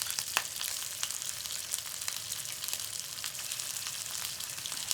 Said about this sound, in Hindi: इस तेल में हम चिकन को सौते करेंगे। हमें इनको बिल्कुल हल्का फ्राई करना है